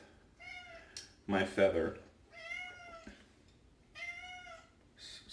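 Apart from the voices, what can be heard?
cat meowing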